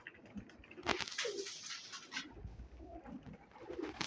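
Pigeons cooing in a loft with soft low throaty coos repeating over light patter and rustling, moderately near, with no talking.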